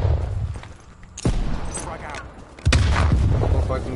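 Frag grenade explosions in the Black Ops Cold War beta multiplayer: two heavy, booming blasts a second and a half apart, the second louder and more sustained, with gunfire rumble and a voice talking underneath.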